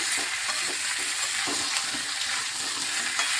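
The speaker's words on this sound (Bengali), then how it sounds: "আমি ভালোভাবে এটা একটু নেড়ে চেড়ে কষিয়ে নিচ্ছি" Potato pieces with salt sizzle and scrape in a frying pan as they are stirred and sautéed for a yogurt-based aloo dum, a steady hiss with irregular stirring knocks, close and continuous, no voices.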